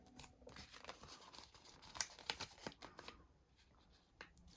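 Sticky tape being ripped off during a cash-stuffing savings challenge, heard as a series of sharp crackling tears and rustles of paper, close and fairly quiet, with no talking.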